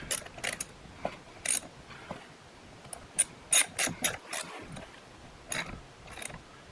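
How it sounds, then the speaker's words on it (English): Ratchet tightening the positive cable clamp onto a battery post on a 2009–2018 RAM 1500 pickup, a series of short, crisp metallic clicking bursts in uneven spurts, fairly close and with no talking. "So tighten down the clamp so that the post is nice and tight."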